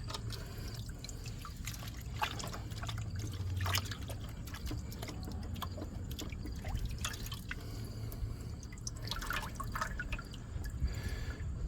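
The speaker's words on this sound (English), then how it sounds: "Now we wash out the miner's moss." Water drips and trickles steadily while miner's moss is rinsed out during gold prospecting, with a low hum running underneath.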